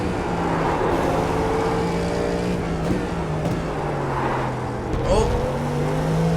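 An LMP3 race car engine held under throttle on the track at Road Atlanta, a steady droning tone that rises slightly, heard from inside the car with a brief burst of tire or traction noise near the end.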